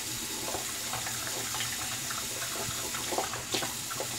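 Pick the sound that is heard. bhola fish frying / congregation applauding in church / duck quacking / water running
water running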